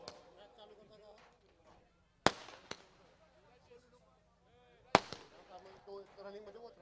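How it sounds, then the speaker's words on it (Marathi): Firecrackers at a sports tournament opening ceremony, with two sharp loud bangs a few seconds apart and a crackle after them, heard under faint crowd noise and a voice over a public address system. "फटाक्यांची आतिषबाजी तुम्ही पाहताय"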